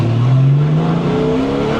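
Porsche 964 3.8 RS naturally aspirated engine on the Goodwood circuit, revving hard under acceleration with a rising, steady harmonic drone. Loud and close throughout, with no voices over it.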